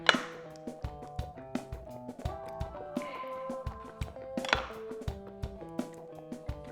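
Plums are pitted with a knife on a cutting board, giving a series of sharp wooden taps and knocks at an uneven rhythm, close and clear, with no talking.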